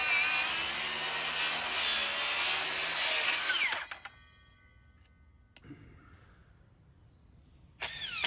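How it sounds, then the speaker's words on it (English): A power tool cuts a bevel into the top outside corner of a 6x6 lumber post, a loud steady whine for about four seconds that stops abruptly, leaving a quiet stretch before another burst starts at the end. "I cut the bevel on the outside corner of the top of the post to match the existing posts."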